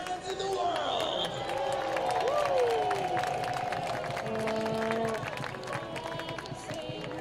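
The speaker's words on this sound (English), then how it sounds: "give yourselves a round of applause for being the best fans in the world" Baseball fans applaud and cheer in a stadium at Raimondi Park during an Oakland Ballers game against the Missoula Paddleheads, a steady crowd roar with scattered whoops and an announcer's voice over the top.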